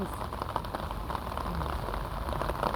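Steady rain patters on a surface, a dense close hiss of drops that continues without pause.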